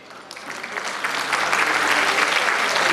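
Applause from an audience at a college employees' sports and cultural event, starting modestly and swelling into steady, dense clapping that fills the hall for a few seconds with no talk over it.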